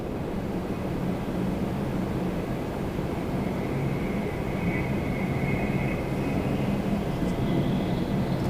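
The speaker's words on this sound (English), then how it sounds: "Embraer Praetor 600 coming in from Montreal" An Embraer Praetor 600 business jet lands at Toronto Pearson after a flight from Montreal, heard as a broad, steady engine roar with a faint whine rising in the middle, continuous and unbroken.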